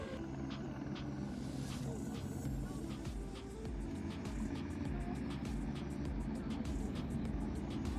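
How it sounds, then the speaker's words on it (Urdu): Helicopter taking off beside Shangrila Lake near Skardu, its engine and rotor making a loud continuous roar and whine that holds steady throughout. "یہاں سے دیکھیں کہ ہیلی کاپٹر ٹیک آف کر رہا ہے"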